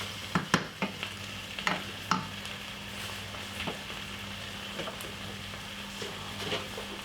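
Dry chickpeas stirred in a pot on the stove with no oil or butter, giving a run of crisp scraping and rattling strokes, busiest in the first couple of seconds, then quieter, with a low steady hum underneath.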